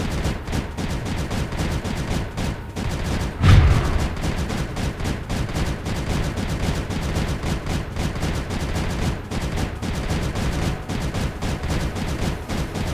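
Turrets firing in the strategy game Creeper World 3, a dense, continuous crackle of rapid gunfire-like shots with one louder burst partway through, steady and loud with no talk.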